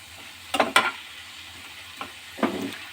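A chicken sandwich filling is stirred in a pan, giving a few brief scraping strokes and soft sizzling bursts near at hand over low background hiss, without speech.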